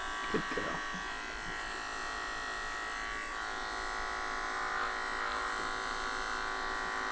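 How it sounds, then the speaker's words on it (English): Electric clippers buzz steadily and close while grooming the lip edges of an American Cocker spaniel, a continuous hum with a few faint handling ticks early on. "Put the edge of your clipper in there."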